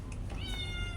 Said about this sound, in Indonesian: Sherly punya kucing.